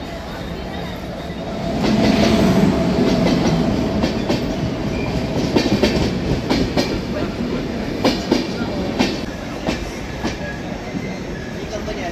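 A passenger train on the Thane–Pune route rumbles close by with rhythmic clickety-clack of wheels over rail joints and occasional metallic clanks, continuing steadily throughout.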